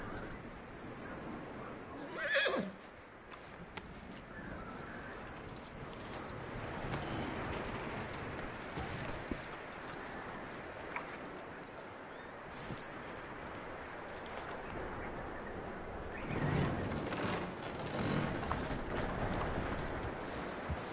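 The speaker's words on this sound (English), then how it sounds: "That looks like a decent horse." A horse in the Red Dead Redemption 2 video game whinnies and its hooves clop, with a short neigh early on and another burst later over steady low ambience.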